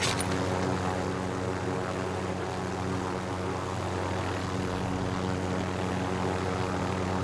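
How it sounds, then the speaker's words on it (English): A helicopter engine in Call of Duty Modern Warfare drones loudly and steadily with a throbbing rotor hum and strong low tonal bands, continuous and close throughout without speech. "I'm gonna get back in the helicopter. Get back in the helicopter."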